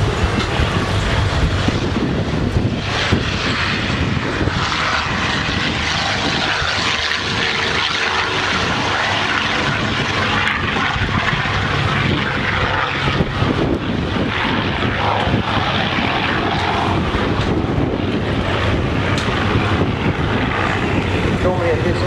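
A North American T-6G Texan comes in to land during a display at Shoreham in a strong crosswind. Its engine drones loudly and steadily throughout, with a faint voice underneath.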